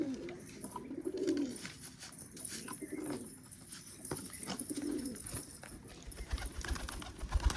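Pigeons coo in a series of soft, low, rolling calls at a home in Umrala while being fed roti, repeating every couple of seconds over faint background clatter.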